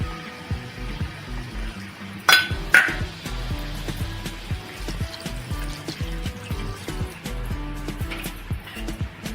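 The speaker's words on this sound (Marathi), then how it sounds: "आता आपण थोडंसं याच्यामध्ये पाणी टाकणार आहोत" Water poured into a pan of elephant foot yam and prawn curry, with a brief splash and clink near the start, then steady low kitchen noise with faint clinks.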